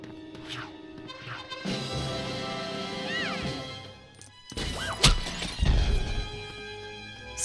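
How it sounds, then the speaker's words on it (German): Lego Harry Potter video game: a Lego student figure bursts apart with sharp shattering, clattering crash sounds amid game music and effects, loud and brief. "Ist der Schüler gerade explodiert?"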